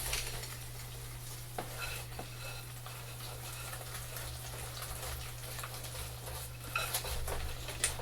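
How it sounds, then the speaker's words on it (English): A whisk beats bimuelos batter smooth in a bowl, a steady, fairly quiet scraping and swishing with faint clicks against the sides, continuing without talk. "I'm going to whisk it all together until it's nice and smooth"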